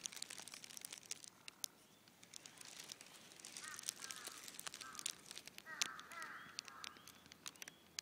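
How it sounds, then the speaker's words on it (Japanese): Crows cawing repeatedly around the recorder in Asahikawa, with several faint to moderate harsh calls scattered over rustling ambient noise. "気がつくとものすごい周りにカラスいっぱいいるんですよ。"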